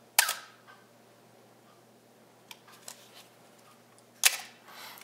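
Shutter of a Canon A1 film SLR camera firing on a long exposure: a sharp opening click, a quiet pause of about four seconds, then a second loud closing click, close up with no talk.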